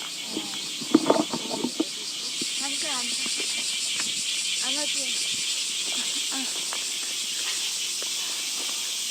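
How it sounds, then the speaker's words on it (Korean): Cicadas buzz in a continuous high shrill drone through a summer day near Tobe Zoo in Matsuyama, Japan, with footsteps and a few sharp knocks early on as people talk and walk beneath it. "매미가 반겨주는 청량한 여름이군요."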